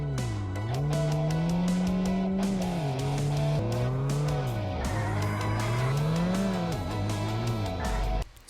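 A car in the video game SimplePlanes 2 drives with a loud, steady engine tone that rises and falls with the revs, plus tire squeal, heard alone and close without any voices.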